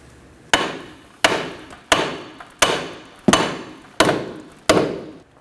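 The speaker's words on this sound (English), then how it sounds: "now using a hammer, we're gonna go ahead and tap around this area to break this off." Seven sharp hammer blows ring out at a steady, roughly even pace, each strike close and metallic with a short decaying ring, as a hammer taps a 2011-2016 Kia Optima steering knuckle to break the tie rod end loose.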